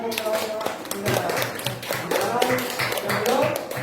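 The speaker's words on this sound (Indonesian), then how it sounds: "tepuk tangan" Students in a combined multi-grade classroom clap together, sharp scattered claps mixed with children's voices and chatter at close range.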